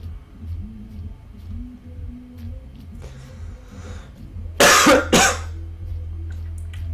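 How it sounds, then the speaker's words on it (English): A person coughs twice in quick succession, loud and close, after several seconds of quiet room hum with faint background sounds. "Sorry about the cough."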